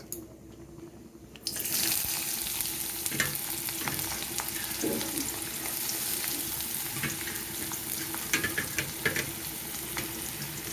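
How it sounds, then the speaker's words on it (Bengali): Chopped onion tipped into hot oil with tempering spices for a potol bhorta, a quiet start that bursts into loud, close frying and sizzling, with scraping and stirring noises throughout. "এবারে পেঁয়াজটাকে আমি হালকাভাবে ভেজে নেব একটু ব্রাউন কালার আসা অবধি অপেক্ষা করতে হবে"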